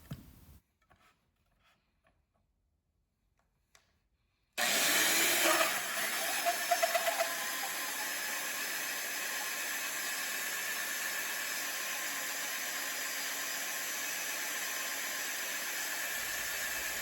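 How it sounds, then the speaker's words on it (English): After a few seconds of near silence, a power drill kicks in with a loud, steady whirring grind as a 3-inch hole saw cuts through lumber, continuing unbroken. "I cut the plugs for these using a 3-inch hole saw"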